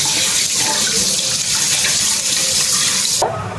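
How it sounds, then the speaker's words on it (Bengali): Running tap water pours steadily over a whole pineapple held under a kitchen faucet, a loud continuous splashing rush that cuts off abruptly near the end. "আনারসটা এখন আমি ধুয়ে নিচ্ছি"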